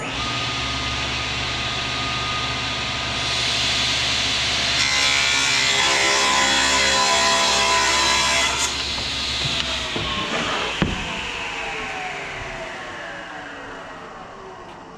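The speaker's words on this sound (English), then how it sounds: "I'm going to cut off the pieces that I don't want first" Power saw cutting through old lumber with screws removed, a loud sustained whine that rises through the cut and then winds down as the blade slows to a stop, with no speech.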